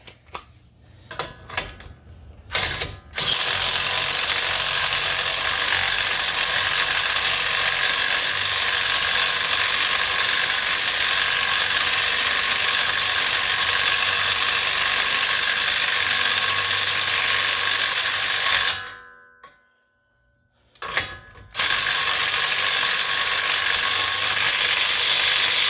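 A ratchet snugs the axle nut on the front wheel hub of a 2006-10 Ford Explorer, a long run of rapid, close clicking that stops briefly near the end, then resumes, with no voices.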